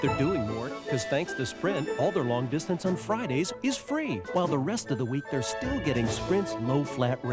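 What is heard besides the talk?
No everyday noise stands out behind the speech.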